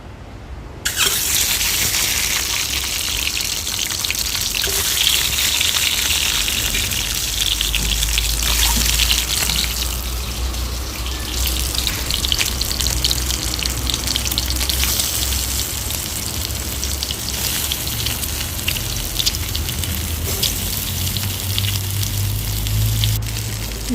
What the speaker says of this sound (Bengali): কড়াইয়ে একটু তেল দিয়ে ডিম এবং আলুগুলোকে হালকা করে ভেজে নেব।